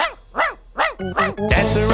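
A dog barks from a children's song setting, a few distinct rising-falling barks in steady rhythm, close and fairly loud, followed by a burst of loud music at the end.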